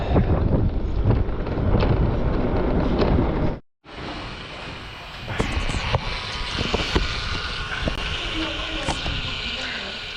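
Strong wind buffets the microphone in heavy gusts, drops out for a moment, then returns as a steady rushing with faint talk underneath.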